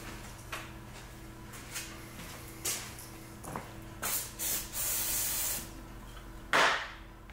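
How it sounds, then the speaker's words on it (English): Several short hissing bursts from a carburetor cleaner spray can onto a 1961 David Bradley engine, one long sustained spray in the middle, with small clicks and handling noises in between. "Get some carb spray."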